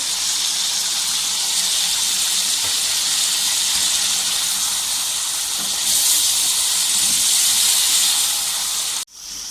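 Ground onion and green chillies hitting hot oil with chicken in a karahi, giving a loud, steady hiss that holds for about nine seconds, swells briefly, then cuts off sharply near the end.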